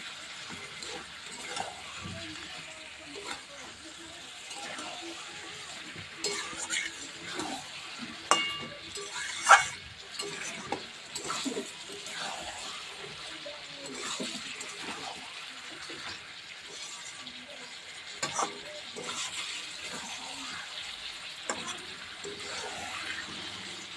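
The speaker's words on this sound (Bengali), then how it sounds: "কষানো হয়ে গিয়েছে, ভালোভাবে কষিয়ে নিয়েছি।" Chicken and potatoes are slowly stir-fried in a pan, with a faint continuous sizzle, occasional clinks and scrapes of the spatula against the metal, and short bursts of stirring, all heard close but quiet.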